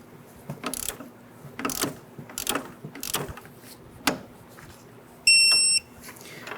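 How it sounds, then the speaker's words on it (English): A ratcheting torque wrench tightens sway bar end link nuts on a 1994–2004 Ford Mustang front suspension, giving several close, sharp clicking bursts in an irregular rhythm, followed by a short electronic beep. "I'm going to torque down our sway bar end link nuts to 14 foot-pounds."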